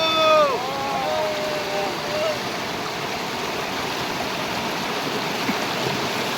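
Flood water of the Kambali river on the Dhanora–Rudreshwar road in Ashti taluka, swollen by heavy rain, rushes steadily over a bridge in a continuous loud roar, with a brief whistling tone near the start.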